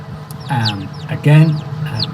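A few short, throaty chicken clucks close by, coming in quick bursts with a low hum underneath.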